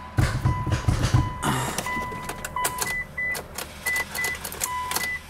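A Mitsubishi Lancer Evolution's engine cranks and fires on a first start after maintenance, loud and close, followed by a steady idle with several short electronic chimes.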